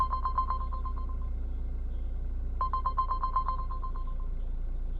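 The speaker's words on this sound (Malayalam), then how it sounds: "അച്ഛൻ്റെ ഫോൺ റിങ് ചെയ്യുന്നുണ്ട്" A mobile phone rings indoors at home, two bursts of a repeating electronic ringtone pattern separated by a short pause, clear and fairly close over a steady low hum.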